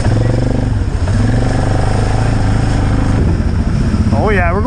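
Suzuki KingQuad four-wheeler ATV engine running loud and close, a steady droning rumble with slight revving, and a voice breaking in near the end.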